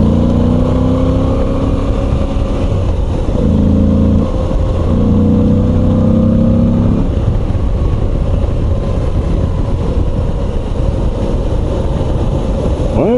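A 2022 Moto Guzzi V85 TT engine runs while riding, giving a loud, close, steady rumble with shifting tones as the revs rise and fall, and a brief spell of higher droning around the middle.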